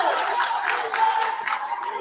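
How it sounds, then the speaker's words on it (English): Crowd noise with clapping and cheering fills a sports championship game as fans clap for Colonia against Piscataway, a steady, dense roar with no break. "Colonia clapping"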